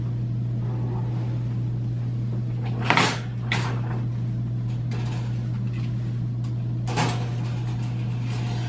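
The door of a Mila instrument processing machine is unlatched and opened, giving a few brief clunks and mechanical thuds over a constant low electrical hum, close by and with no one talking.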